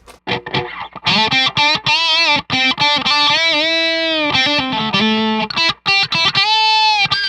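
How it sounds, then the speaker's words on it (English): An electric guitar plays through a germanium fuzz pedal, with gritty, distorted sustained notes separated by short stops. "It gives it that kind of fuzz box germanium bite"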